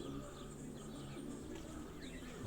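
Distance racing pigeons coo softly in their loft, a faint, low, repeated murmur of calls heard from some way off.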